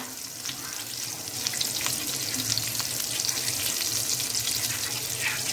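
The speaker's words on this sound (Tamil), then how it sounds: "இந்த ஆயிலும் பட்டரும் நல்லா ஹீட் ஆகிடுச்சு" Oil and butter heat in a pan for tandoori chicken, giving a steady close crackling sizzle with scattered sharp pops that builds slightly and continues throughout, with no one speaking.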